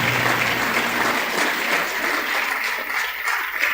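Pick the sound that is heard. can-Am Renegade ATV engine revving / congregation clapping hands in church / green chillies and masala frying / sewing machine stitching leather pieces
congregation clapping hands in church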